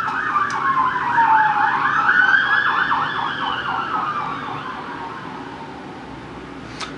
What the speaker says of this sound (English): I had to let the ambulance go by